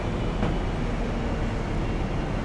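A train in Train Simulator Classic rolls slowly along the tracks through a 15 km/h zone, giving a loud, continuous rumble of wheels and running gear with no talk.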